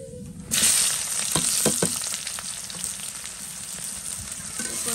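Chopped onions hit hot oil in a wok already holding cinnamon and cardamom, setting off a sudden loud, close sizzle that stays steady and crackling to the end.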